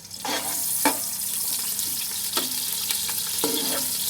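A medium-sized chopped onion frying in hot oil in a pot for yakhni matar pulao, a loud continuous sizzle broken by a few knocks and scrapes of a stirring spoon.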